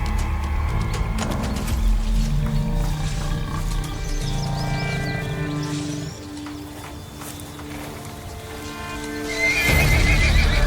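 A young zebra's hooves drum across savanna ground in a loud, continuous run, mixed with whinnying calls and a big cat's roar, with no talking.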